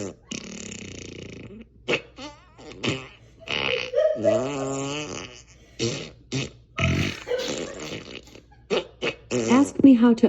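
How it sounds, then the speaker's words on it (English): An Alexa smart speaker plays a rapid series of cartoonish fart sound effects, loud and close, with wet sputtering bursts of varying length separated by short gaps, and a synthetic voice talking between them. "Time for me to fart 17 times."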